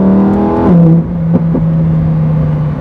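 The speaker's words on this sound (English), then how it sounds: "The exhaust noise" Lamborghini Huracan Performante exhaust, loud and close, revving up sharply then dropping to a steady lower drone with a couple of brief pops.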